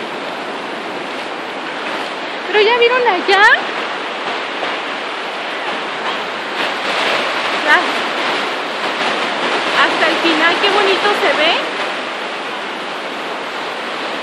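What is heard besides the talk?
rough ocean waves breaking on a beach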